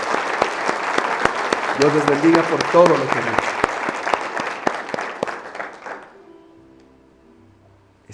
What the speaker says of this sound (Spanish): Démosles un aplauso, por favor.